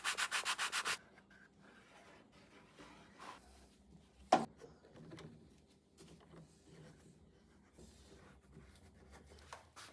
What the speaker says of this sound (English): I'm just gonna hand sand that down a little bit, just the bottom needs it